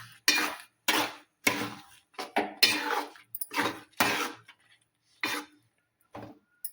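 Bisi bele bath being stirred in a cooking pot, giving a string of distinct metallic scrapes and clanks of a spoon against the pot, irregularly spaced and fairly close.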